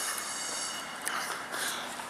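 A train moving past a station platform gives a steady broadband rumble and hiss with faint rail squeal, continuous and fairly loud throughout, with no voices.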